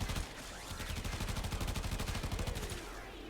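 Rapid automatic gunfire from a high-capacity weapon in a sci-fi shooter video game, a steady stream of sharp, evenly spaced shots rattling for about three seconds at close range with no talk.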